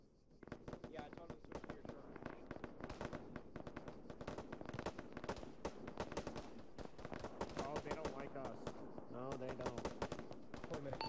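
Dense, continuous gunfire in the military shooter Arma 3 on a beach battlefield, rapid cracking shots and bursts overlapping steadily, fairly distant and layered, with voices talking over it.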